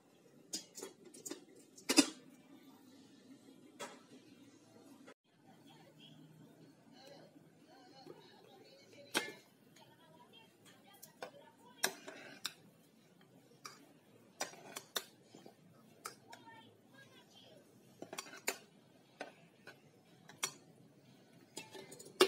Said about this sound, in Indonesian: Saya aduk sebentar supaya dia nggak menggumpal juga.